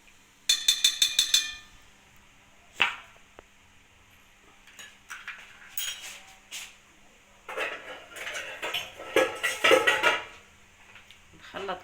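Spoon clinking and scraping in a bowl while oil and sugar are mixed together for a simple economical cake, with a burst of rapid clinks at the start and then irregular scraping and knocks, close and moderately loud.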